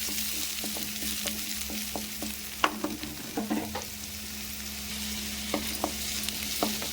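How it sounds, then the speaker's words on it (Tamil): Chopped big onions sautéing in a pan for a sprouted cowpea curry, a steady low sizzle with a faint hum, broken by scattered sharp clicks of a spoon stirring and scraping, with no voices. "பெரிய வெங்காயம் போட்டாச்சு அதை வந்து கொஞ்சம் நல்லா வதக்கிக்கணும்"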